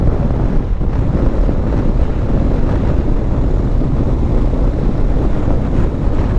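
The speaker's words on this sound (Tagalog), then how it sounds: "Grabe yung hangin, ang lakas." Strong wind blows steadily and loudly across the microphone along a highway in Quezon, Philippines, a continuous broadband roar with gusty buffeting and no talk.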